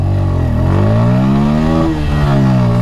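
A Bajaj Pulsar P150 motorcycle accelerating hard in first gear, its engine note climbing steadily in pitch, loud and close, with a brief dip before rising again.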